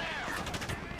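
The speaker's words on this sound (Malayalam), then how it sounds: "വെടി വെക്കട്ട വിരുദ്ധന്മാർ." Rapid bursts of gunfire from the video game GTA 5, dense and continuous across the moment, with a talking voice present underneath.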